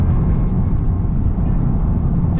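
Lexus IS 200t engine droning at steady cruise in automatic mode during a delayed paddle-shifter gear change, a loud low rumble with a faint rhythmic ticking above it and no clear shift break.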